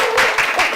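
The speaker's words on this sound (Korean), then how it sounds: "큰 박수로 부탁드립니다" Brief burst of studio audience applause on a television book show as an author guest is welcomed, a short dense patter of clapping.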